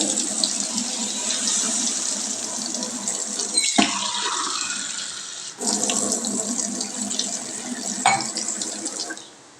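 Water pours into a cooking pot of pointed gourd, drumstick, potato and tomato, a steady splashing stream with brief breaks and shifts in tone as the pot fills.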